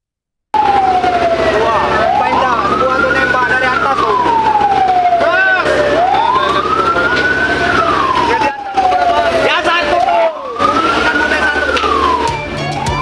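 A fire engine siren wails loudly and steadily close by at a house fire among burning homes, its tone sweeping up and down in long repeated cycles.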